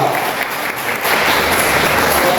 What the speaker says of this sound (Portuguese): as palmas glorificam a Deus